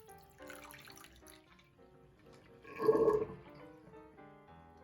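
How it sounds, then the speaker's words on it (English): Water gurgles and splashes briefly as a sink drains, swelling for about a second amid quiet background music. "I'm gonna let out the rest of this water."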